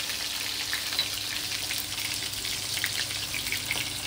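Cut potatoes frying in a pan, a dense steady sizzle like light rain, close and even from start to finish with no talking.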